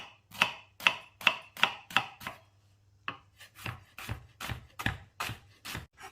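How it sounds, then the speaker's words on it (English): An onion, topped and tailed, being rough chopped with a knife on a board, a run of crisp regular blade knocks, a short pause, then another quicker, slightly uneven series of chops, close and clear with no talking. "Top and tail them, rough chop."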